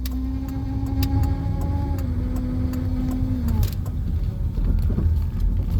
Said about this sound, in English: There goes an undercover police officer. He had an unmarked car.